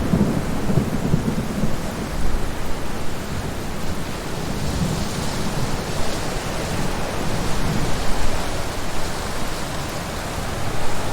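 Torrential rain pours through a thunderstorm in a loud, continuous roar, with deep rumbling thunder rolling underneath and swelling slightly near the end; no voices.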